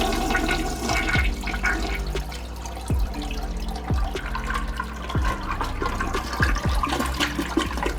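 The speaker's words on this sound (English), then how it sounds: "so give it a good flush." Toilet flushing as its tank drains, a steady rushing water sound lasting throughout with scattered drips and clunks over the top, fairly close and with no talking.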